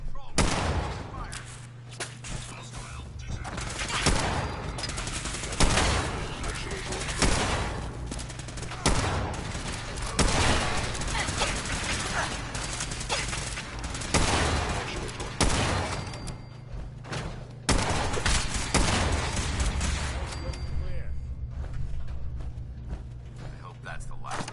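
Dense, continuous firefight in Fallout 4, with rapid shots and bursts layered almost without pause over game ambience and a steady low hum, plus occasional voices.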